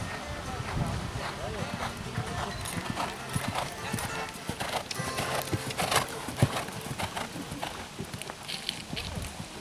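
Steady clip-clop of a horse's hooves, dense and continuous throughout, with people talking over the hoofbeats and a busy, noisy outdoor background.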